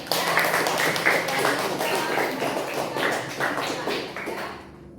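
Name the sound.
applause in a classroom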